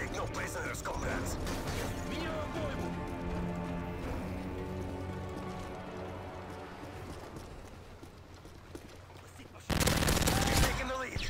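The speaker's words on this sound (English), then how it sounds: "did I forget how fast this gun shoots?" Rapid automatic gunfire from a gun in the video game Modern Warfare 3, a sustained, fast stream of shots with mechanical clatter running for several seconds, then a sharper, louder burst near the end.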